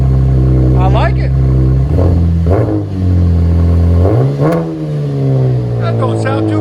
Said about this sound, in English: That don't sound too bad at all. It's a V6 Chevy Camaro.